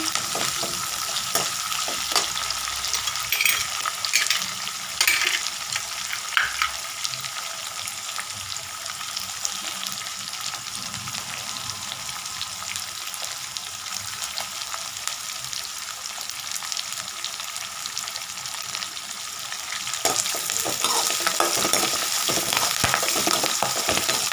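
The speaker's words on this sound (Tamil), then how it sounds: "இப்போ கருவேப்பிலை போட்டுக்கலாம் நல்லா வதங்கணுங்க" Curry leaves crackle and sizzle in hot oil in a pan while samai (little millet) upma is being made, a steady close frying hiss that swells slightly near the end.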